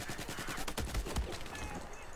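Gunfire in the video game Battlefield 4, a rapid automatic burst of quick shots with a couple of heavier low thumps, fairly quiet in the mix.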